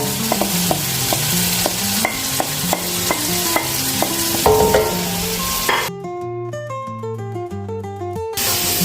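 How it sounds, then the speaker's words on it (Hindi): Potato and cauliflower stir-fried in a pan for aloo gobhi, a spatula clinking and scraping in rapid repeated strokes over a loud sizzle, with one abrupt cut near the end. "इसकी हम थोड़ी देर बुनाई करेंगे, 1 से 2 मिनट"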